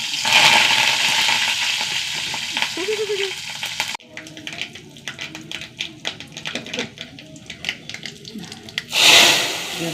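Dried red chili and curry leaves sizzle in hot oil, a loud, steady hiss that shifts into sharp crackles and pops, then flares up again near the end.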